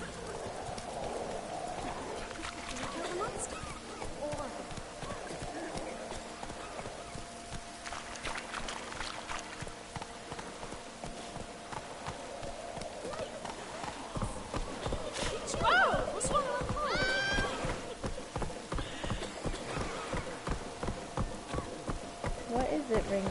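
Horse hooves clatter in a steady, rhythmic gallop in the video game Witcher 3, growing louder toward the end, with game ambience and someone speaking over parts of it.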